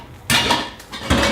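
A metal frying pan is lifted and set down on a kitchen stove during breakfast cooking, giving two sharp metallic clanks about a second apart, close and fairly loud, with a faint clatter between them.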